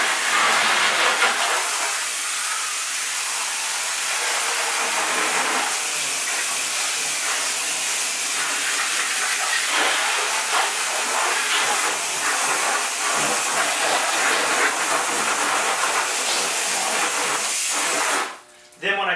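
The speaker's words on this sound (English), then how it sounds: "I'm going to just go ahead and hose it off now." Steady broadband spray from a garden hose rinsing a car during a hand wash, continuous hiss that runs close and loud for most of the stretch before cutting off near the end.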